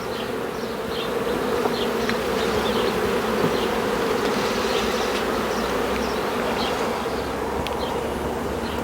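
A honeybee swarm hums loudly and continuously as it is moved into a nucleus hive, a dense steady drone with individual bees zipping past nearby.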